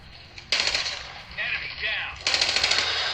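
Gunfire from a mobile shooting video game played on a HONOR X7b 5G phone, loud rapid bursts that cut in and out, with quieter game sounds between them.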